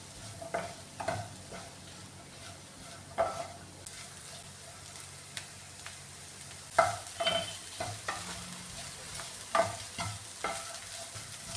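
Green beans with crushed black pepper stir-frying in a pan for a Kerala-style beans mezhukkupuratti, with a steady low sizzle broken by repeated scrapes and clinks of the spoon as it is stirred.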